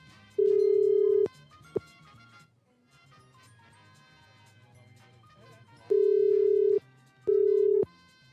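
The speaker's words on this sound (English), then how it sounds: "Why is it ringing like that?" A telephone ring tone on a radio call sounds in three sustained electronic tones, the first and last pair separated by silence, heard over a phone line at moderate level.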